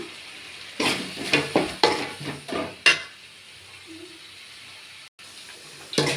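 Grated coconut and coriander stir-fried with browned onions in a pan for tamarind rice: several uneven scraping strokes of a spatula over a faint sizzle, then a quieter stretch before one last stroke.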